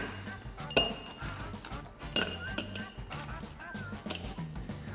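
Ice cubes drop into a glass while an Italian soda is made, giving several bright clinks and knocks at close range.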